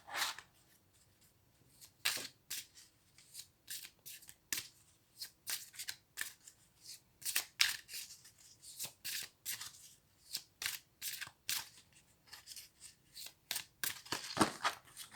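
Tarot cards being shuffled and cut by hand, a steady run of crisp riffling slaps and flicks, close and alone with no voice.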